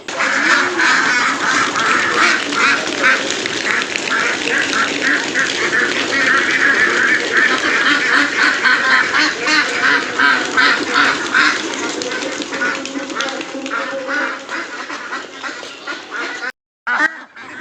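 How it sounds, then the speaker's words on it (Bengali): Young Pekin ducks, 25 days old, quack steadily in a dense, overlapping chorus throughout as they are released into water, close by, with a brief gap near the end. "কিছুক্ষণ পর দেখেন হাঁস কীভাবে পানিতে ছাড়ি"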